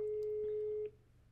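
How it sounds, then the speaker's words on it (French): A telephone line tone sounds while calling a friend on a snowy day: a single steady, fairly loud electronic tone holds for just under a second, then cuts off into quiet hiss. "je vais appeler Aurélia."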